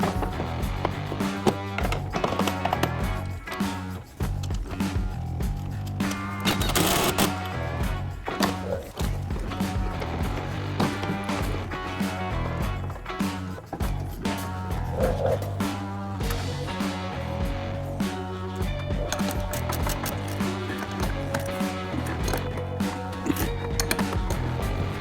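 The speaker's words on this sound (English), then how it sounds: "I went ahead and tightened the sway bar bolts" A wrench works sway bar bolts on a car's front suspension during a Mike Maier MOD1 upgrade, with steady metallic ratcheting clicks and clanks close up over a continuous mechanical hum.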